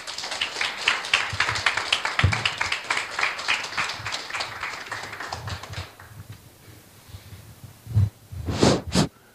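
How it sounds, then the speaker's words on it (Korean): Audience applause welcoming a professor to a history lecture, a fairly close patter of clapping that fades out after about six seconds, followed by a few brief bursts of handling noise and breath. "큰 박수로 환영해 주세요."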